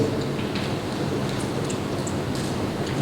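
Rain falls outside during an evening youth church service, a steady, even hiss of drops with no talking over it.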